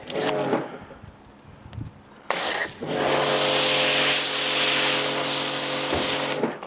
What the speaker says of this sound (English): I've got PRIMUS loaded up in the foam cannon here, and essentially we're just going to spray this whole car down